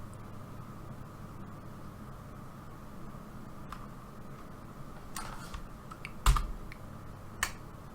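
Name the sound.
computer keyboard shortcut key presses in Blender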